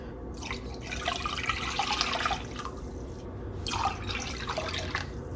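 Water runs steadily into a cooking pot for corned beef, a continuous close splashing and trickling that swells and eases slightly over a few seconds.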